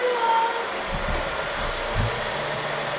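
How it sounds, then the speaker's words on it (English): A vacuum cleaner running in a garage makes a steady, loud whirring drone throughout, close by, with some low thumps as it is moved about. "I know it's like impossible to hear with the vacuum"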